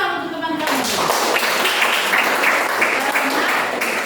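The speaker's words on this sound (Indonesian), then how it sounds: "tepuk tangan untuk teman-teman" Students in a classroom lesson break into loud applause for classmates, a dense burst of clapping that starts after a brief voice and carries on steadily to the end.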